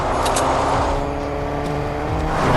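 Video game car engine in Fortnite driving through a ring of fire, a steady loud motor drone with shifting pitch and a brief squeal-like burst early, continuing without pause.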